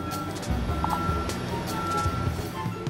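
Truck backup warning signal beeping steadily amid loud, continuous workplace noise, with engine rumble and machinery throughout.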